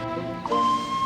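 A single steady steam whistle sounds, holding a clear high tone for most of a second against a constant mechanical background.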